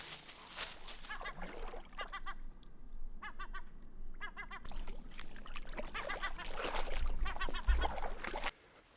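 A gull's repeated raspy calls ring out in short bursts at a lake, with splashing water and wind noise around them outdoors.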